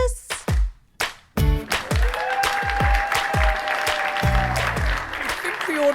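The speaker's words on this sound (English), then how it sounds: "I love how you were clapping in time to the music" Claps from children joining in with a kids' art and dance show, a series of sharp hits over music with voices, fairly close and moderately loud.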